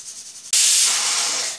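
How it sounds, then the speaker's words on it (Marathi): A pressure cooker cooking chicken gravy suddenly lets out a loud, steady hissing whistle of escaping steam that holds for about a second before easing slightly. "तुम्ही पाहू शकताय कुकरची 1 शिट्टी आता होईल"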